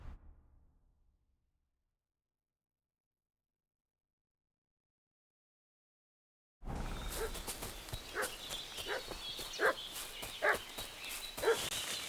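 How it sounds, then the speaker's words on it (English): Dog barking in the medieval video game Kingdom Come: Deliverance II, a run of agitated barks and yips over outdoor ambience that starts abruptly after a long silence and continues steadily. "What's that dog making such a fuss about?"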